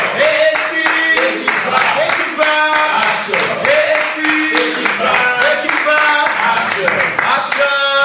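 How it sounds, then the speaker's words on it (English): Audience at a live talk-show taping keeps up rhythmic clapping while voices sing or chant over it, the claps loud and close amid the singing. "You guys keep clapping until she."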